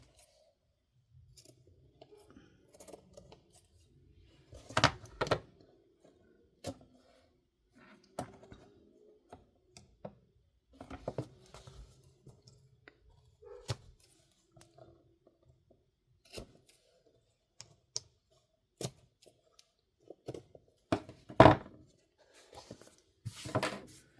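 Scissors trim paper cover pieces for a Little Golden Book junk journal, scattered crisp snips and rustles that come in short bursts with quiet gaps.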